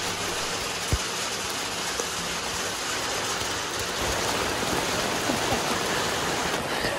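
Steady broadband rain falls after a stretch of heat and wildfire smoke, a continuous even hiss with a slight swell in intensity partway through, close and unbroken with no voices.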